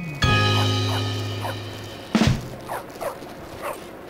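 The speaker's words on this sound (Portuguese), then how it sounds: "Esse cachorro, para de encher o saco." A dog in Bully: Scholarship Edition yaps in short, separate bursts, a louder cluster around the middle followed by several quieter, whiny barks over a steady low in-game hum.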